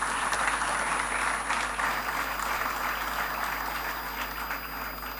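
Sustained applause from a large crowd at a school annual day, a dense steady wash of clapping that eases slightly toward the end.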